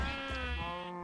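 A sheep in a survival video game gives a single sustained, wavering bleat, fairly close and clear over a faint low rumble, with no talk.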